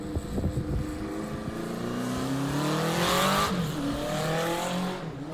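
A Honda CB400 inline-four motorcycle engine revs up and passes on its first run, a rising then falling whine with clear harmonic sweep, loud and close, then fading slightly at the end.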